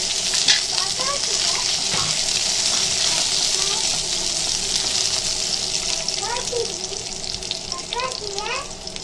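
Tempering for a dried fish curry sizzles in a pan, a steady bright frying hiss throughout with some stirring clinks and background noise.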